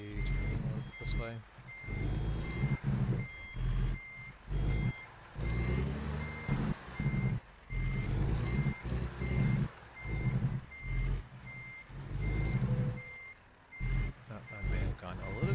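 A truck's reversing alarm beeps at a steady, regular pace in American Truck Simulator, running beneath continuous talking from a man for the whole stretch.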